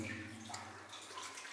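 Water pooled behind a debris dam inside the abandoned Highland Mary Mine gives off a faint, steady wash and trickle over a low, constant hum, with no voices.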